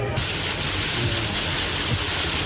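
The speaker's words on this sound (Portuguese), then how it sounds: "O vento está muito forte, a água está ficando por todo lado." Strong Hurricane Irma wind roars from inside a building's garage, a dense, unbroken broadband rush that is loud and constant with no pauses and no talk.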